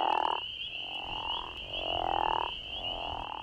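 Crawfish frogs in Indiana call in a chorus of long, deep snoring croaks, several overlapping pulses rising and falling, with a steady high insect-like trill running underneath.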